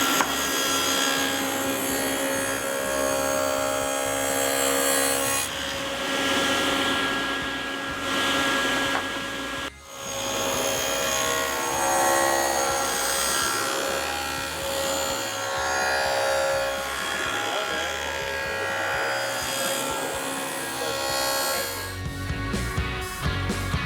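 A wooden table post is fed through a cutter to form a wide dado, a loud continuous rasping, roaring cut holding steady with one brief break partway and a scrape as it finishes.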